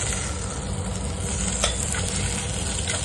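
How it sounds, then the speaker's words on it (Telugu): Onions with ginger-garlic being stirred in a frying pan, a soft steady sizzle with scraping and clinks of a spoon against the pan, and no talk. "కిందకి మీదకి మిక్స్ చేయాలి"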